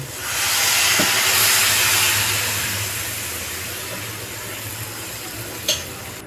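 Water poured into a hot pan of pumpkin stalk curry with green chilli paste releases a loud, broad steaming hiss that swells quickly and then slowly fades, with a small clink near the end.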